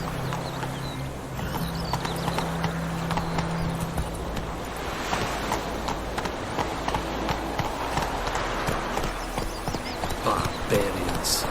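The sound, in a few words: horse galloping in video game The Witcher 3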